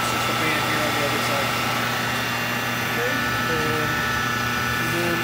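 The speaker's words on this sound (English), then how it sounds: "This is a purpose-made 20 horsepower motor just for a rotary phase." A purpose-built 20 hp Baldor motor running in a rotary phase converter, giving off a steady loud mechanical hum and whine with a constant drone that never changes.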